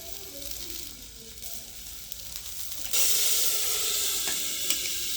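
Soft background noise gives way to a sudden loud, steady sizzle as cumin seeds hit hot oil, crackling continuously without any voices.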